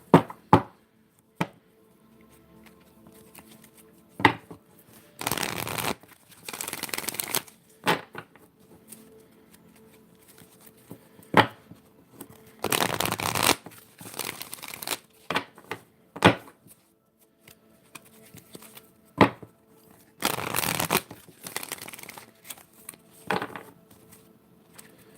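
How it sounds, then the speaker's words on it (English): Oracle cards being shuffled by hand in several separate bursts of brisk riffling and slapping, with quiet pauses between, fairly close and loud, no talking. "I'm going to pull some oracle cards, see what the current position is"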